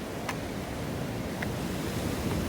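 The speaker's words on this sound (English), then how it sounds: "It's like the water go under the rock and then come up through the rock." Sea water surges through a rock blowhole on the western coast of Jamaica, a continuous broad roar of surf and wind with a couple of faint hissing spurts, steady and enveloping.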